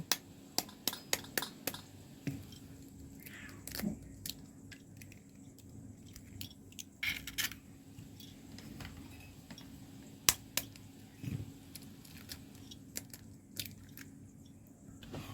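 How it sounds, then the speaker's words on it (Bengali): Eggs cracked one after another into a bowl in a home kitchen, a run of sharp close taps and cracks followed by soft wet drips and squishes, quiet with no talking. "প্রথমে একটা পাত্রে আমি এই ডিমগুলো ফাটিয়ে নেব।"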